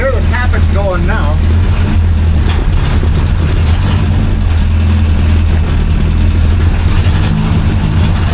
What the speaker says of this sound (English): You can hear the tappets going now.